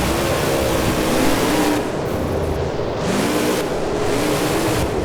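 Monster truck engines in a BeamNG Monster Jam Boneyard Bash race rev loudly and continuously, with rising and falling pitch sweeps as the trucks race over ramps and a tabletop, with no talk.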